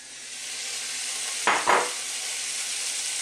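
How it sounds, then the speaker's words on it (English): Long beef strips go into melted butter in a pan for beef stroganoff: a constant close sizzle, broken by two quick scraping clatters of the meat being moved about halfway through, with no speech. "In my pan here I've got some melted butter and I'm now going to add in our beef,"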